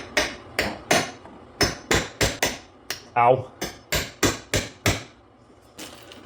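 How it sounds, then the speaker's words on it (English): A hammer strikes a snowmobile hood latch on a Ski-Doo in a rapid series of about a dozen sharp, close knocks, with a brief vocal exclamation partway through. "Actually, what I did on the last one is just pop this in, use the hammer."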